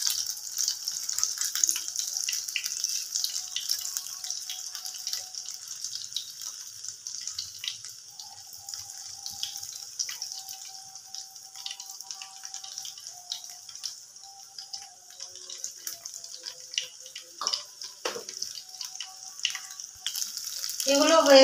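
Soybean pakora frying in hot oil, a steady bright sizzle running throughout with occasional crackles and pops, fairly close and with no talk over it.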